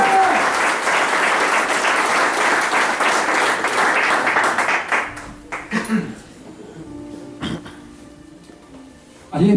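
Church congregation applauding loudly and steadily in a dense burst of clapping that fades out midway, followed by quieter room sounds and scattered noise.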